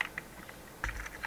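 Keys on a computer keyboard click in a quick, uneven string of soft taps as a command is typed, close and quiet with no talking.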